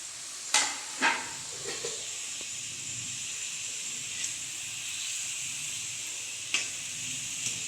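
Maida donut dough fries gently in hot oil over a low flame, giving a steady quiet sizzle and hiss with a few soft clinks of stirring near the start and end.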